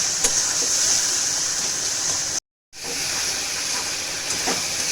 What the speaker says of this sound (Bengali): মশলাটা ভালো করে কষুন, যতক্ষণ না তেল ছাড়ছে ততক্ষণ একটু কষাবেন মশলাটাকে